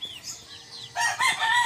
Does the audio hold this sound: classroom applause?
no